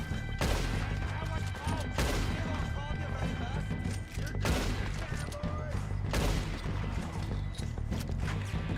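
Rapid gunfire from weapons fired from the hip in Red Dead, dense bursts of shots and impacts repeating in waves over a loud, busy game soundscape.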